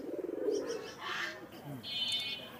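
Pigeons at a crowded pigeon market in Khalishpur, Khulna: a soft, throaty coo opens, followed by chirps and bird calls mixed with brief human voices in a busy, moderately quiet setting.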